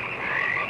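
Dense chorus of frogs croaking in a 1972 horror film trailer, a continuous loud rasping trill with no pauses.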